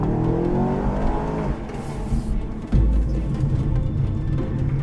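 A sports car engine revs up, drops as the gears shift, then pulls away again, loud and close with no speech.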